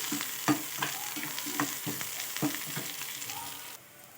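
Chopped onions and curry leaves sizzle steadily in hot oil for a samosa filling, with sharp, repeated spatula clinks and stirring scrapes close by and no talking.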